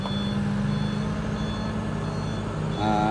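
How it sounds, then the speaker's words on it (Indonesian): A truck backs up a steep uphill road at Kedabuhan during an August 17 outing, its reversing beeper sounding in steady repeated pulses over a loud, constant engine roar. "Mundur saat menanjak di tanjakan Kedabuhan teman-teman, agar tidak terjadi hal-hal yang kita tidak inginkan."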